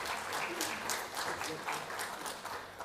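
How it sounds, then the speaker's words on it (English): Audience applause at a CII startup summit for corporates enrolling, a steady wash of many hands clapping at moderate volume, sustained for a few seconds without a clear break. "I request all of you to give a big round of applause for the corporates who are enrolling today"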